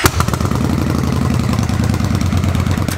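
A Victory High-Ball V-twin motorcycle engine idles loud and close, a deep, steady, lumpy throb with a slight pulse at the start and no voices over it.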